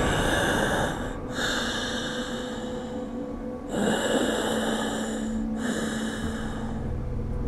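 A voice imitates loud, heavy breathing, with long rasping inhales and exhales repeated in a slow rhythm, close and harsh.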